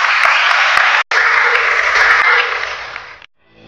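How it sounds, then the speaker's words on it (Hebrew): An audience applauds a rabbi, dense loud clapping that fills the room, breaks off sharply for a moment, resumes, then thins and stops abruptly. "אני מציע שכולם ימחאו כפיים עכשיו לטובת הרב הזה"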